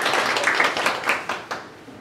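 Audience applause at a marketing conference as the next speaker rises, steady clapping from a seated crowd that thins and tapers off over about two seconds.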